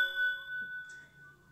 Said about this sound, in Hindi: घंटी भी साथ में आएगा तो अच्छी बात है ना